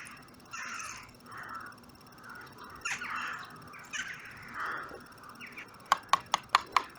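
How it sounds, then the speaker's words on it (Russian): A knife slices a lemon into a quarter on a cutting board for chicken shawarma sauce, giving a quick run of about six sharp, evenly spaced chopping taps near the end after quieter kitchen rustling and faint background sounds. "Лили сейчас отрезает четвертинку лимончика"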